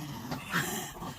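A small dog growls and whimpers briefly while being lifted onto a bed, a low rumbling grumble with a short nasal whine, close by.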